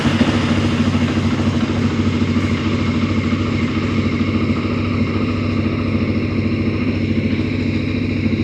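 A CF Moto engine running steadily after starting, a loud, close, continuous mid-pitched motorcycle-style drone with a clattery idle that holds even throughout, with no talking.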